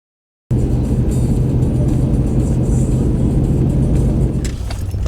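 A pickup truck drives during a Southern Tier deer opener hunt, its engine a steady, close, loud low rumble with road noise throughout, easing slightly near the end.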